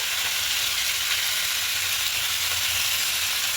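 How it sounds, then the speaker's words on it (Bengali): Vegetables for a soybean dish fry lightly in a pan with a steady, dense sizzle that stays loud and even throughout, up close with no speech. "সবজিগুলো হালকা দেখুন ভাজা ভাজা করে দিচ্ছি"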